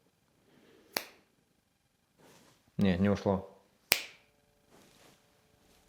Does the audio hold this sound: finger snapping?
yes